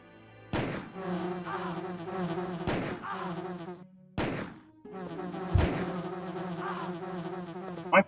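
Bees buzz in the 1996 Resident Evil video game, a continuous insect drone broken by several sharp impacts or gunshots at intervals.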